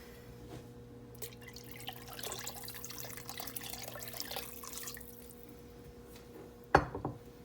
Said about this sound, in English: I'm going to add about a cup of water.